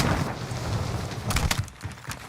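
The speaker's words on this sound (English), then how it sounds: "I heard gunshots. It's a little ways away" Distant gunfire in the Warzone video game, several sharp cracks in a short burst over dense, noisy battlefield ambience.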